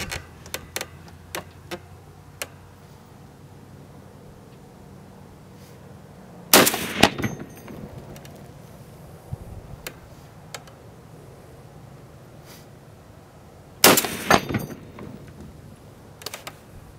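A Barrett .50 caliber M82 rifle fires two heavy, booming shots several seconds apart at a shooting range, loud and close, with faint clicks and quiet handling noise in between.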